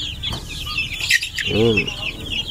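A crowd of one-month-old chicks on a farm peep and cheep continuously, with a nearer cluck and a brief harmonic call from a larger bird standing out, in a busy outdoor setting.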